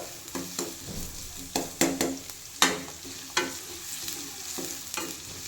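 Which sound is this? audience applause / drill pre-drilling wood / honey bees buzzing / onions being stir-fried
onions being stir-fried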